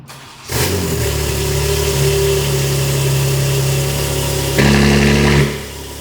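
A BMW engine runs steadily after starting, loud and close, with a steady droning idle and a brief rise in revs near the end; no voices.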